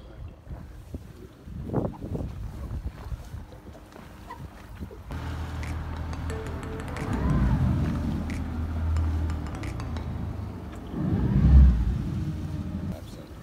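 A Prime 821 boat pulls away on both engines across open water, a steady low rumble that swells and surges, with wind buffeting the microphone and a voice speaking briefly early on.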